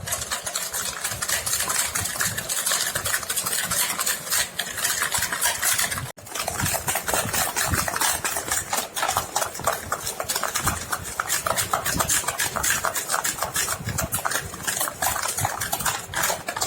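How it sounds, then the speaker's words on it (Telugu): Sugar and coffee are stirred or beaten together for dalgona coffee in a home kitchen, a loud, continuous whirring churn that runs without pause apart from one brief break. "చక్కెర అంతా కరిగేలా కలుపుతూ ఉండాలి."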